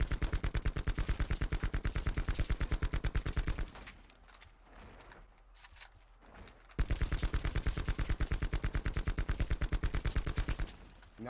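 Rapid automatic gunfire at a target in Call of Duty: two long, steady bursts of loud, close shots, separated by a pause of about three seconds.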